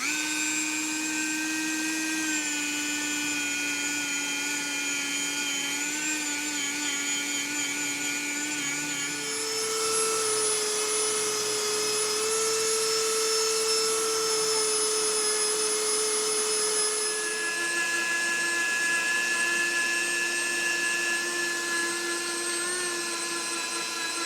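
A power sander with 180-grit paper works a curb-rashed wheel rim, giving a continuous high, whining hum that shifts pitch partway through as pressure changes, close and steady with no voices.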